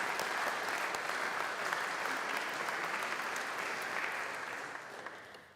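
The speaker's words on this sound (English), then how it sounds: "So please help me give a round of applause to all of our students" An audience in the Chapel of Mercy at a Mount Mercy University honors convocation gives sustained applause for students, a thick even roar of clapping that fades out in the final second.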